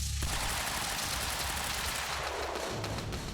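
Gunfire in the Quantum Break video game comes as a loud, continuous barrage of rapid shots and crackling impacts over a dense rumble, lasting the whole stretch.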